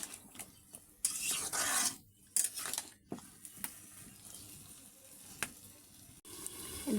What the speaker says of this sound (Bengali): আমি দিয়ে দিছি গোস্ত আর লাউটা, সুন্দর করে কষিয়ে নিব।